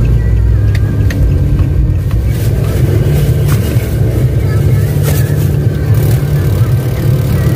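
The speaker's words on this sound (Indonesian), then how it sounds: "Oke, kita bagi laluan motor dulu guys." A motorcycle passing along a street, a loud, continuous low engine drone close by that holds steady throughout, with traffic ambience around it.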